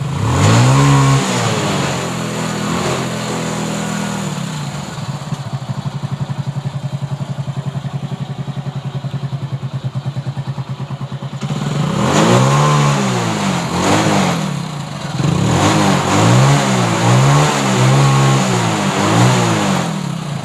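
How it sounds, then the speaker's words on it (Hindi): A Hero Honda CD Deluxe motorcycle with a newly fitted ACG starter idles steadily, then its engine is revved in loud rising bursts, several blips in a row near the listener, with no talking. "ऐसे हम रेस करके दिखाएंगे प्रॉपर रेस ले रहा है कि नहीं बाइक।"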